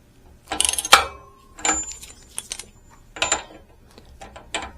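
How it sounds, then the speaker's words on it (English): A spanner is wound around a steering bearing nut while fitting tapered roller steering bearings on an Ariel Bantam motorcycle, producing close bursts of ratcheting, clicking metal with short pauses between. "So I'm going to hold the spanner on the top. I'm going to wind it on from the bottom."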